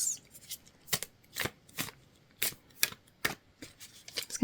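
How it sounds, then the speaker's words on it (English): Tarot cards being shuffled by hand, a series of crisp riffling bursts with short pauses between them, close and fairly quiet with no talking. "So once again, as I'm shuffling,"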